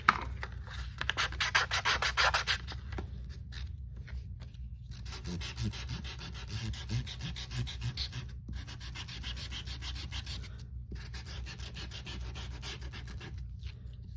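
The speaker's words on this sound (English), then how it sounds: "Let's do a little sanding." Steady scratchy rubbing of sandpaper over a crafted paper surface in several long strokes with short pauses between them, close and fairly quiet over a low background hum.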